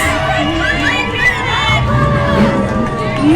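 The Greer Junior Jackets cheer squad cheers at the 2023 Greer Christmas Parade, a steady wash of crowd voices and higher shouts outdoors, continuous and loud, with talk mixed in.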